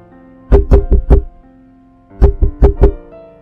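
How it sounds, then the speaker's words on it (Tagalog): Two bursts of sharp knocking on a bedroom door, four raps each, loud and close, separated by a short pause. "isang umaga ay humahangos na kumakatok si Arnie sa kwarto ni Brian"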